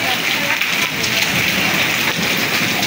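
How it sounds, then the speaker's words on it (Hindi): Heavy rain pours down steadily and loudly during a storm with snowfall, a dense continuous hiss of water on surfaces with no pauses, close to the recorder. "ये देखें बारिश इतनी तेज़ कि ये पानी देखें कहाँ तक पहुँच आया है"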